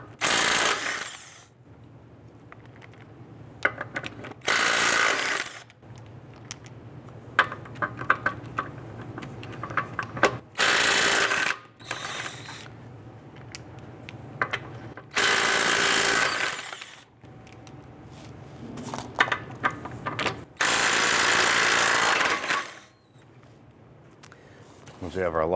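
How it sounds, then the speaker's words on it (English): Lug nuts on a 2005–2010 Chrysler 300 are loosened with a 21 mm socket, heard as repeated loud bursts of power-tool whirring with clicks and clanks between them, while someone talks. "I'm going to loosen and remove our lug nuts."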